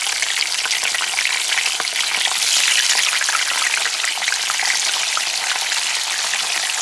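Spam slices fry in a hot cast iron pan over medium heat, producing a loud, dense, continuous crackling sizzle that swells slightly midway, with no talking.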